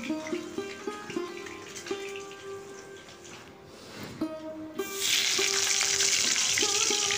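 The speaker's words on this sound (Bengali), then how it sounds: "এবারে বাকি মাছগুলো আমি দিয়ে দিলাম, দিয়ে ভেজে নিচ্ছি।" Pieces of bhetki fish sizzle in hot oil in a pan, with a soft steady crackle broken by rhythmic clinks of a utensil, then a louder, brighter hiss toward the end.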